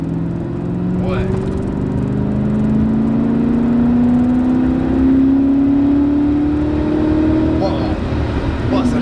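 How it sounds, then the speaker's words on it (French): A German 4.0-litre V8 car accelerates in gear, its engine note climbing steadily in pitch over several seconds from inside the cabin, a smooth rising drone that settles near the end. "Allez, on va accélérer."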